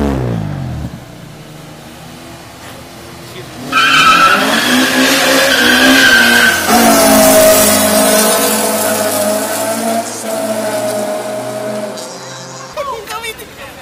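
Honda cars street racing skid with long, loud tire squeals and engine noise that last several seconds. Voices talk underneath the sound.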